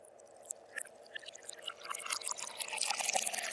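Water poured into a vessel and then drunk, a soft trickling and splashing that builds steadily in loudness over a few seconds, close by with no talking.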